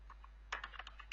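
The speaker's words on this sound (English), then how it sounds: "here I'm just typing the function" Rapid, light keystrokes on a computer keyboard while code is typed, a quick close-up burst of clicks over a low steady hum.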